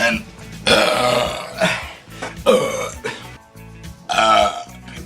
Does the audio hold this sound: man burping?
yes